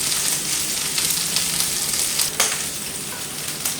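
Meat grilling in a frying pan until browned on all sides, a bright steady sizzle with spitting crackles and an occasional louder pop, close by with no talking.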